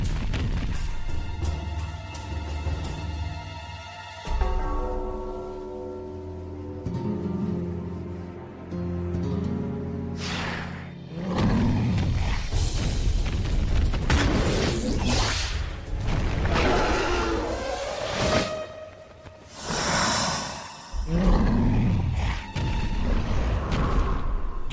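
A cartoon pterosaur creature roars amid dramatic whooshes, booms and swishing effects, with loud rising cries and crashing impacts surging in waves over a soundtrack.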